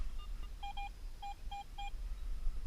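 A Garrett AT Pro metal detector gives about five short, clear electronic beeps in quick pairs and singles over soft background hiss while searching a forest.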